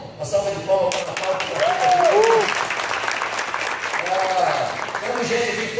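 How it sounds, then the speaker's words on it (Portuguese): Applause from an audience at a Brazilian leadership training event, clapping that builds quickly and continues steadily, with cheers or raised voices mixed in over the crowd noise. "Uma salva de palmas para Natal"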